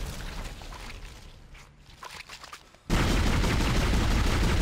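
Gunfire from the Dead Space video game: a quiet stretch of faint bursts and footsteps, then a sudden loud, sustained barrage of shots that fills the rest of the clip.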